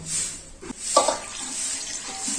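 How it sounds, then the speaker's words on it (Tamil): Boiled cauliflower is rinsed under a running kitchen tap, with water splashing steadily into a sink and brief clatters as the pieces are moved, close and moderately loud. "இது அப்படியே எடுத்து இதுல மாத்தி பச்சை தண்ணியில கழுவிடுவோம்"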